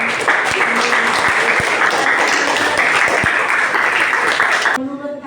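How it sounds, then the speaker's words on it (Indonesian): A classroom of students applauding a classmate after a science lesson on measurement, dense steady clapping that stops abruptly near the end as a voice begins. "Kita beri tepuk tangan untuk Abisa"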